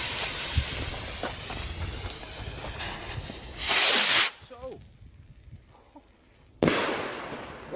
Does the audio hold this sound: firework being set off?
yes